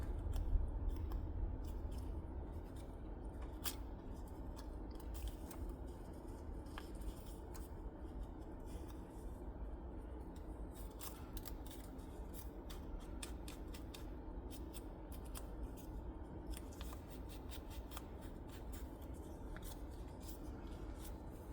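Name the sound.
scissors fussy cutting paper around the edge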